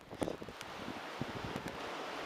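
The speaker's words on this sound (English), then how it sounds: "had a super freaking windy day again" Strong gusting wind buffets a microphone outdoors on a windy day, a dense low roaring rumble with rustling texture, steady and loud throughout with no talking.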